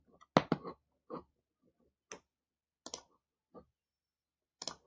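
Sharp computer mouse clicks, several isolated taps spaced irregularly in a quiet room, close and crisp.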